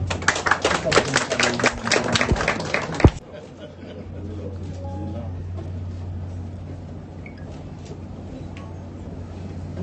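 Applause from the audience at a ceremony installing a new director general, dense clapping for about three seconds that breaks off sharply, followed by quiet room noise and a low hum.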